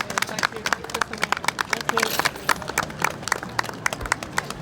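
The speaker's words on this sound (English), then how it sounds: "Give him a nice round of applause." Outdoor crowd applause at a stilt challenge event, uneven scattered clapping with distinct individual claps and chatter and voices mixed in throughout.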